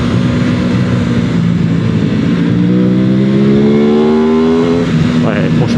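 A 2020 Aprilia RS 660 sport motorcycle accelerating, loud steady engine roar with a rising pitch as it pulls through the gears, heard close from the rider's position with heavy wind noise.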